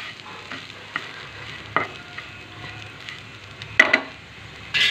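Salt is being stirred into food in a pan over the heat, with a soft background sizzle broken by several distinct scraping and clacking strokes of the utensil, spaced irregularly and fairly close.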